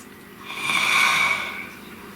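A single slow, deep breath drawn in and let out close by, rising and fading over about two seconds with a soft airy hiss, alone with no talk.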